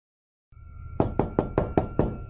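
Six rapid, evenly spaced knocks on a door in a video game, crisp and close after a moment of silence, with no talk.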